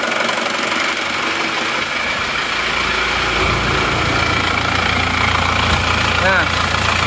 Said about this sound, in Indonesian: yang dari Madura suaranya lebih kasar, lebih rame